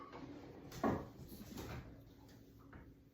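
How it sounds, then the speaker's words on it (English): An oven door opens to take out a tray of baked sugar cookies, with a quick clunk followed by softer handling knocks and rattles in a quiet kitchen, close and fairly faint. "let me pull them out and see what we got"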